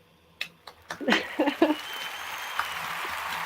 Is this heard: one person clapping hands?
yes